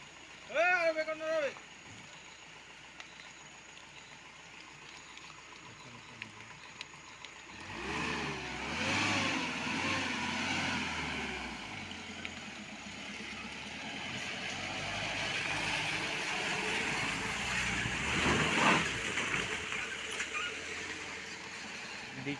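A car stuck in the mud revs as a second driver works it free, its engine rising and droning over several long bursts, with people talking nearby throughout.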